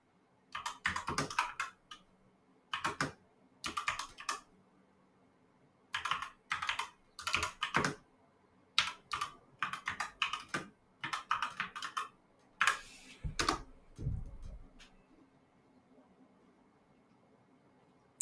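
Typing on a mechanical keyboard, with close, clattery bursts of keystrokes separated by short pauses, quiet and steady throughout.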